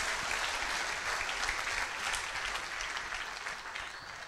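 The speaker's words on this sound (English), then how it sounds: "You can put your hands together for Jesus." Steady applause from a crowd, dense and even throughout, without speech.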